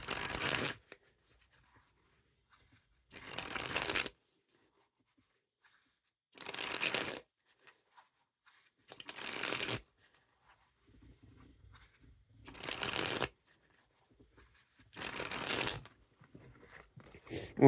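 Bicycle Boo Back playing cards, a red colorway deck, sprung from hand to hand in six separate crisp, fluttering bursts of about a second each, spaced by near silence, close and clear with no talking.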